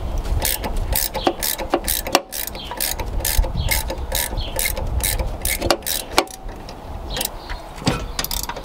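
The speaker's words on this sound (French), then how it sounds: "Donc maintenant je vais visser ça et je vais extraire la poulie." Bolts being screwed into a puller to extract a car engine's damper pulley, a series of close metallic ratcheting clicks and clanks with irregular pauses, over a low background rumble.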